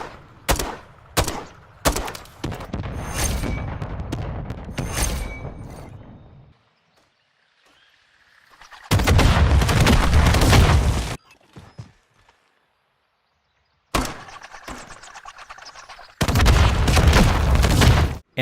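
RGL grenade launcher rounds fired in Modern Warfare III on the Estate map, a quick series of sharp launches followed by loud bursts of booming explosions, with quiet gaps between the later volleys.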